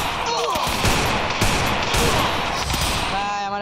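Rapid bursts of gunfire in a Free Fire style shooter match, loud and close, firing in quick repeated volleys with sharp cracks and a few metallic game effects near the end.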